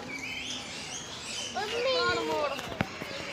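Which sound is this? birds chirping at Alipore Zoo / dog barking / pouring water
birds chirping at Alipore Zoo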